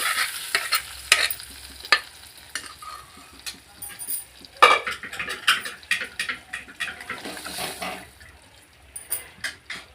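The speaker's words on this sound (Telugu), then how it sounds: "ఈ విధంగా అయితే పప్పు పోపు వేసుకున్నాను ఫ్రెండ్స్" Dal tempering with curry leaves and salt being stirred in a pan, with repeated scraping and clinking strokes of a spoon over a light sizzle, irregular and close, with no talking.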